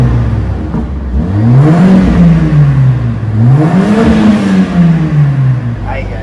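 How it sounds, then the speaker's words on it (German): A car engine cranks and catches, then revs up and down twice with a rising and falling roar, loud and close. "wir starten jetzt zum ersten Mal das Auto"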